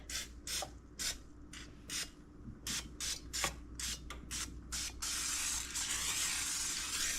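Cooking spray misted onto a baking dish: a run of short, close hissing bursts in an irregular rhythm, then one longer continuous spray, with no talk.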